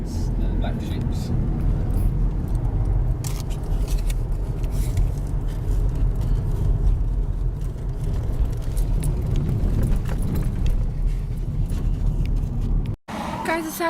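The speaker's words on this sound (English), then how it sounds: "we're just driving by, and then Gareth stopped because he needed to call someone" A car drives along a road in the London countryside, its steady engine and road noise rumbling close and continuously. People chat inside the vehicle throughout.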